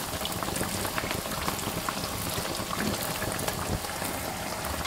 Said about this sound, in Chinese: 全程保持中大火炸，防止把油条炸硬。